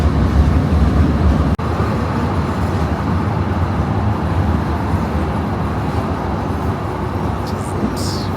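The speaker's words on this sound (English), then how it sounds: "First time tram in Tunis, Zemi." Tram ride through Tunis, with steady rolling and rumbling of the tramcar running continuously, a brief sharp jolt near the start, and faint background voices.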